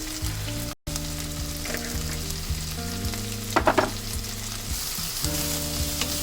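Green chilies, asafoetida and onions sautéing in hot oil give a continuous close frying sizzle with a short crackling flare in the middle, set against steady background music and a momentary dropout near the start.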